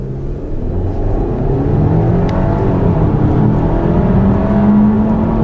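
2014 Audi A6 with a 2.0-liter turbo four-cylinder pulling hard from low revs, a loud, sustained engine drone with rising pitch, heard from the cabin, no talking.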